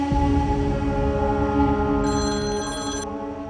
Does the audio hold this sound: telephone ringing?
yes